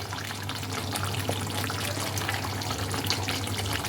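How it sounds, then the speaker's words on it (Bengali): Cream poured from above over navratan korma, a mixed-vegetable curry with softened boiled vegetables, giving a steady soft liquid trickle with a low hum beneath, continuous and close for the whole stretch. "এবার আমি ওপর থেকে দিয়ে দেব ক্রিম।"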